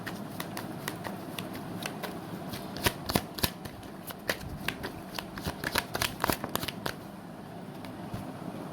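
Tarot cards are riffled and shuffled close up, producing a rapid, uneven run of crisp papery flicks and snaps that continues steadily throughout with no talking.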